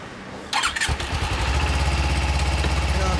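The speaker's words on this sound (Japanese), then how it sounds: "すみません、エンジンを、はい、エンジンかけてもらえますか？" A 2014 Suzuki GSR250S motorcycle engine cranks and fires up after a short starter whir, then settles into a steady, throbbing idle close by.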